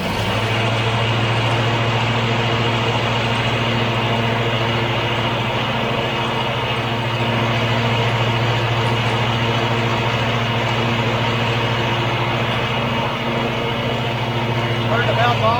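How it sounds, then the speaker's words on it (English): A John Deere LA145 lawn tractor runs with its mower deck PTO engaged, a steady droning engine hum holding constant and fairly loud throughout with no voices over it. "We're going to engage the PTO."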